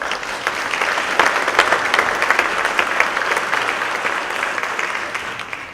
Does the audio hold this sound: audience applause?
yes